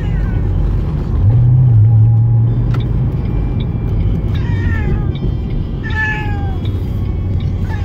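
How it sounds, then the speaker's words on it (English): A cat meows repeatedly inside a moving car on the way to the vet, its cries rising over a steady loud road and engine rumble, with no talking. "maybe 2 minutes of this thing meowing"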